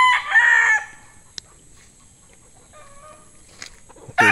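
A young gamecock stag crows twice, a loud near crow at the start and a shorter burst near the end, with quiet farmyard background between.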